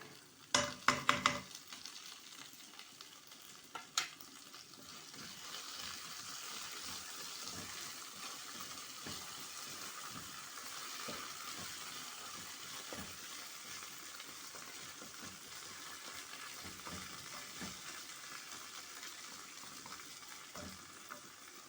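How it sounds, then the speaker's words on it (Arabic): Two spoonfuls of tomato paste fry in a pan as it is sautéed, a steady soft sizzle heard up close after a few clinks and knocks of a spoon at the beginning, with no talk over it. "خاشوقتين معجون على مود احمسها وياه."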